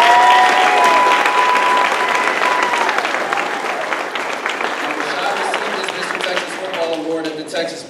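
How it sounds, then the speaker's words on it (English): A crowd at a high school football award presentation breaks into loud applause that gradually thins out, with voices talking and cheering through it. "Let's give him a round of applause."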